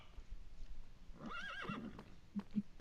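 A horse in Minecraft gives a single clear whinny, quiet but close, followed by two soft hoof clops.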